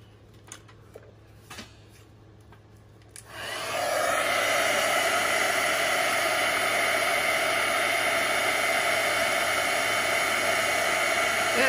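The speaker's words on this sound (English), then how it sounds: "we're going to use our heat gun" A heat gun roars on steadily for most of the stretch, a loud continuous blowing hiss used to heat and set ink on a stamped card, preceded by a few quiet taps and handling sounds.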